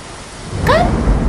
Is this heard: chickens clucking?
no